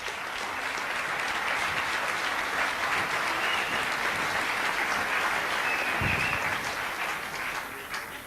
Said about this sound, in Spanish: Un aplauso para el Jorge.